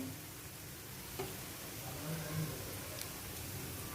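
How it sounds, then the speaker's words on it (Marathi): Ginger-garlic paste sautés in a pan with a quiet, crackling sizzle, broken by a few scrapes and taps of a spoon being stirred through it. "आपण आलं लसूण पेस्ट पण घालून घेऊया आणि व्यवस्थित असं परतून घेऊया"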